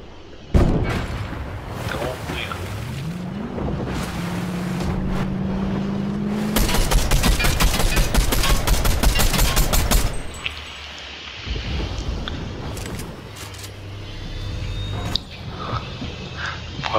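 Gunfire in a video game includes sharp reports from a heavy sniper rifle, mixed with engine drone and a dense burst of rapid shots in the middle, with quieter ambience afterward.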